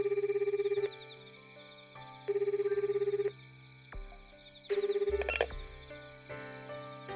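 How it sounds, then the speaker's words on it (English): A phone ringback tone in a visual novel sounds in three repeated bursts separated by pauses, fairly soft, with a brief louder click and a tone shift near the end. "I choose Amane's number and return the phone to my ear"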